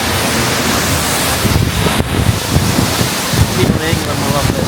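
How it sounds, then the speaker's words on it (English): Seljalandsfoss waterfall in Iceland heard from the path behind the falling water, a loud, steady roar of crashing spray mixed with wind buffeting the microphone, with brief voices breaking through. "Currently going behind a waterfall."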